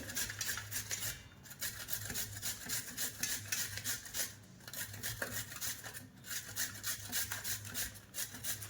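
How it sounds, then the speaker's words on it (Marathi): Fresh turmeric root grated on a coarse large-hole grater, a repeated rhythmic rasping scrape in steady strokes, close and fairly quiet, with no talking. "अशी बारीक किसून घ्यायची चांगली हळद"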